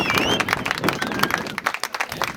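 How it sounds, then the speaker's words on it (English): Wedding guests at a ceremony clapping for the newly united couple, a lively round of close applause that thins out toward the end, with a few faint voices mixed in. "Clap for them."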